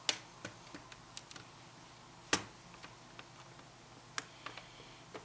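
Flat screwdriver prying off the keyboard of an HP Pavilion G6 laptop, sparse sharp plastic clicks and snaps, one louder crack, close and otherwise quiet.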